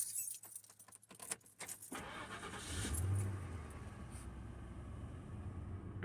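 Keys jangle, then a 1992-95 Ford Panther platform car's 4.6 V8 with a cold air intake cranks and settles into a rumbling idle, heard close up from inside the car.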